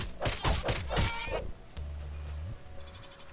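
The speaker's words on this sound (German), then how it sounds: "Ach, komm her, Ziege." A goat in Minecraft with the Mo' Creatures mod bleats in several quick, wavering calls, loud and close, followed by a low thud and a quieter hum of game sounds.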